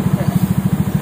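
Suzuki Skywave scooter fitted with a Yamaha NMAX exhaust, idling with a steady, even low-pitched pulsing throb close by, no talk over it.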